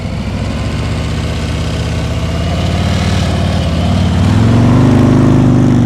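A motorcycle engine idles steadily during slow-speed riding practice, a loud, close, even low rumble that swells slightly toward the end with no talk over it.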